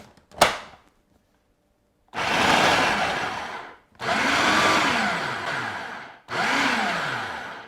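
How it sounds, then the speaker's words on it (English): A food processor pulses butter into flour for a blueberry tart crust: a sharp click, a pause, then three loud whirring bursts of a couple of seconds each with a falling motor pitch as each one stops. "Then going to pulse again just to cut the butter into the flour"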